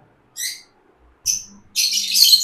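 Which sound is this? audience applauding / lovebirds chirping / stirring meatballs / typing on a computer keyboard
lovebirds chirping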